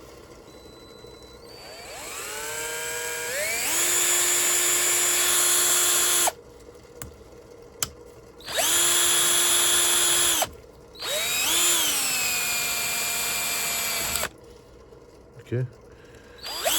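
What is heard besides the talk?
power drill drilling on a BMW alternator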